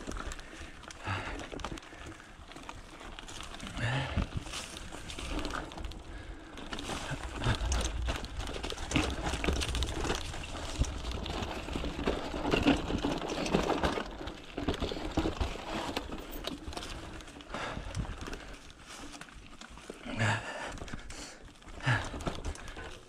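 A mountain bike rattles and clatters loosely over a rough trail on Raccoon Mountain, with an uneven stream of knocks and bumps that rise and fall throughout the ride.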